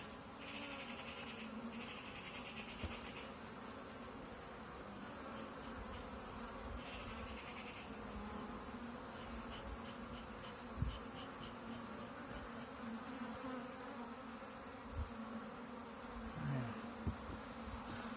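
Honey bees buzzing continuously around an open hive, a steady dense drone with individual bees passing close by, with no speech.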